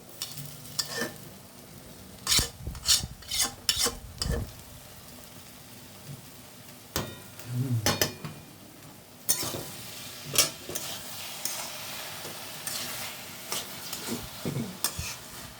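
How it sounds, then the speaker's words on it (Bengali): Grated coconut frying in a wok, stirred with repeated scraping strokes that come in bursts over a soft, steady sizzle. "এটার মধ্যে নারকেল ভাজাটা চলে যাচ্ছে।"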